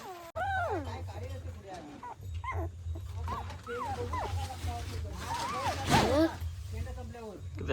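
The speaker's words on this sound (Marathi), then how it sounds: "पिल्लं बघा केवढीशी." Nineteen-day-old double-coat shepherd puppies whimper and yip in repeated high, wavering cries close by, under steady talking from a person nearby and a low background hum.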